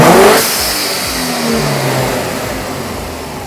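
A car engine with a turbo blow-off valve revs loudly and steadily, a sharp burst at the start fading into a sustained high-revving roar, with no talking.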